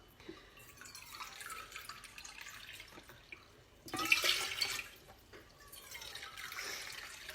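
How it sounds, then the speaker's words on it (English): Water poured into a clip-top glass jar for fermenting, a soft trickle broken by a louder, brighter gush in the middle before it settles back to a lighter flow, with no talking. "you just add 4 cups of water"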